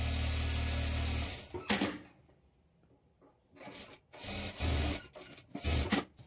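A sewing machine runs in short bursts while top stitching a high-neck blouse with lining, its rapid whirring needle chatter starting and stopping several times with quiet pauses between runs.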